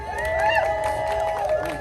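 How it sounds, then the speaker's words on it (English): A crowd at an outdoor political rally in Santa Monica cheers and whoops, with overlapping shouts and voices rising and falling throughout a brief, loud stretch. "Please give Krystal Tini a round of applause."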